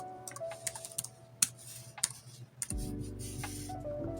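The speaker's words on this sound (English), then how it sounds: "if I were to type the word modern" A single word typed on a computer keyboard: a run of sharp, separate key clicks in an uneven rhythm, close and clear, followed by a steady electronic hum that comes in near the end.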